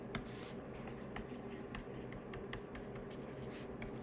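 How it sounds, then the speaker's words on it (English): Marker or pen writing out a chemistry explanation, a short run of soft scratchy strokes and squeaks, close and faint over steady room noise, no talking. "Let me just write that out."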